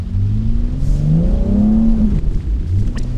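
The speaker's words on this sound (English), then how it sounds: "the exhaust note on this is phenomenal. I can't believe this is a stock exhaust." A stock-exhaust BMW X3 M40i SUV roars loudly and steadily through city streets, its engine note rising and falling with rhythmic harmonic sweeps and a few faint crackles near the end.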